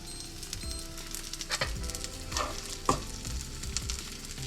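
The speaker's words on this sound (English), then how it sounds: "You need to allow them to cook so the flour and everything is gonna get together." Corn and courgette fritters sizzle steadily in a hot frying pan, with a continuous crackling fry and small pops and spits, close and fairly quiet, with no talking.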